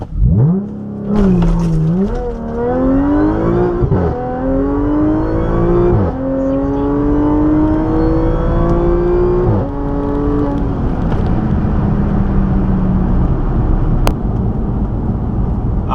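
An Audi S4 launching hard from a standstill, its engine roaring loud and close as it revs up through several rising gear pulls with brief dips at each shift, then settling into a steady high drone.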